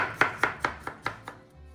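A knife chops garlic on a cutting board in six crisp, evenly spaced strikes, close and clear, gradually getting a little softer.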